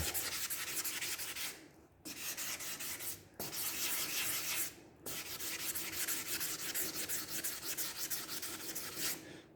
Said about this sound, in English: I'll do the bulk of it with the harder, flatter pad